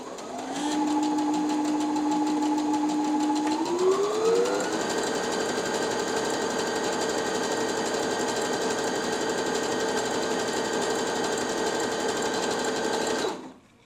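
A Brother NV 10 sewing machine runs at a steady stitching pace for about thirteen seconds. Its motor whine climbs in pitch partway through as the speed picks up, then holds loud and even until it stops.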